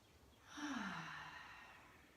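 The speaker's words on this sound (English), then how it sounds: "Full deep breath." A single long, deep breath during a beginner yoga flow, a soft, close sigh-like exhale that swells and slowly fades, with no talking.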